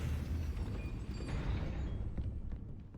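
A Depulso spell cast in the video game Hogwarts Legacy, a loud rumbling blast with a deep low-end boom that swells and slowly fades, ending with a few faint ticks.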